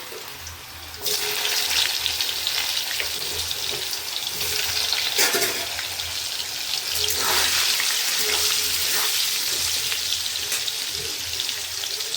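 Salted potatoes hit hot oil in a wok and burst into a loud, dense sizzle about a second in, holding as a steady close crackling roar for the rest of the clip.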